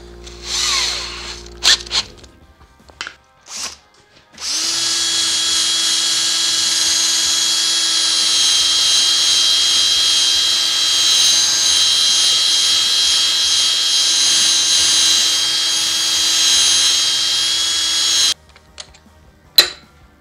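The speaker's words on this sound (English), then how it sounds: "I'm going to get a buffing mop on the drill" An electric drill spins a buffing mop against a rusty elm burl platter, making a loud, steady, high whine that runs about fourteen seconds after a few short knocks and stops abruptly.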